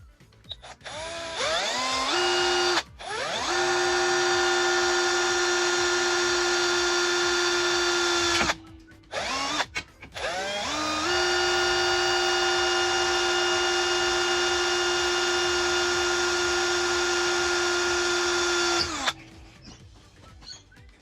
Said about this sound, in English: Just makes it a little bit easier to put a drill bit in.